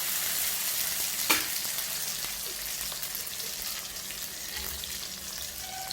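Whole chillies with their seeds fry in hot oil for tarota sabji, a steady close sizzle with a sharp initial crackle as they hit the pan, no voices.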